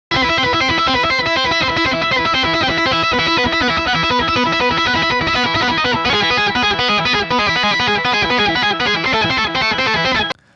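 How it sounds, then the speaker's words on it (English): Synth-like guitar track played through a Pliny plugin preset, a loud, dense distorted tone with a chorus shimmer and a busy rhythmic pattern, steady throughout with no talking, stopping abruptly near the end. "So it's like a synth-like guitar track."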